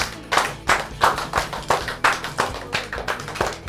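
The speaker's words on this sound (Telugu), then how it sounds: "గట్టిగా క్లాప్స్ కొట్టాలి" An audience at a women's entertainment show claps loudly together in a steady, even rhythm of sharp, close claps, with no talk over them.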